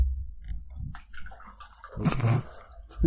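A margarita pours and splashes into a glass in short gurgling bursts, with a fuller, louder pour near the end; no one speaks.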